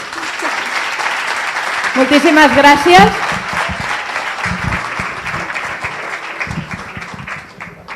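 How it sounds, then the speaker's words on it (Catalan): Audience applause at a Catalan awards ceremony for a science contest, a steady loud wash of clapping throughout, with a voice speaking over it briefly and occasional cheers. "doble aplaudiment per ells"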